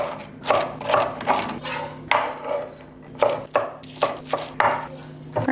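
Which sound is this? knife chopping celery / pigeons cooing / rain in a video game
knife chopping celery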